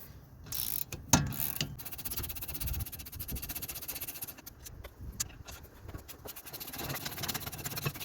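A ratchet works on the 17 mm caliper bracket bolts of a Jeep Renegade rear brake, quiet clicking pawl turns in short bursts with scattered metallic knocks and clunks, fairly faint overall.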